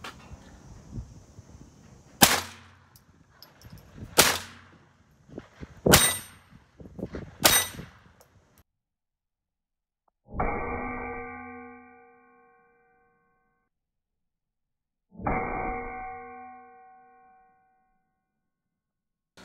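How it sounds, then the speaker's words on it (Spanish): Several sharp gunshots crack in quick succession, then two separate loud metallic clangs ring out and decay slowly as bullets strike steel targets. "Entonces vamos a ver los disparos."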